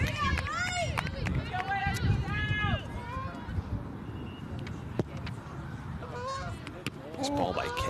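A flock of geese flies over an outdoor girls' high school soccer game, giving repeated nasal honks that are loudest early on and return near the end, while a commentator talks over them.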